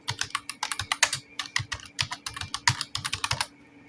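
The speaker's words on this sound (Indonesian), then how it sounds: "Lalu enter 2 kali agar lebih renggang, lalu ketikkan kata pengantar." A computer keyboard clatters with quick, crisp keystrokes in an uneven run, close and loud, with no voices, then falls silent at the end.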